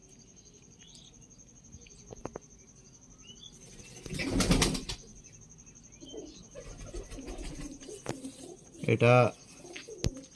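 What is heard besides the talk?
Dubai breed high-flying pigeons cooing and flapping wings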